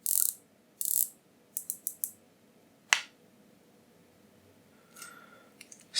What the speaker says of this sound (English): The bezel action, let's check that out.